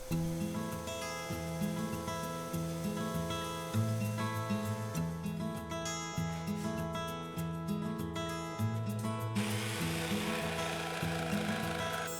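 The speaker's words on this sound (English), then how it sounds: "Sanding, so I'm gonna use my overhead sander" A steady, loud overhead power sander hums and grinds continuously on wood, its pitch wavering slightly as it rubs across the surface, with no voices.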